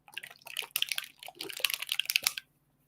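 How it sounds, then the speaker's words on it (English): Repeated hissing spritzes from a pump bottle of sparkle spray, close and crisp, fired in quick bursts for about two seconds before stopping. "you can, instead of misting with water, mist with your sparkle spray"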